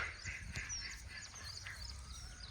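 Faint honking calls from geese or ducks carry from a distance across a village lake, over a quiet morning outdoor background.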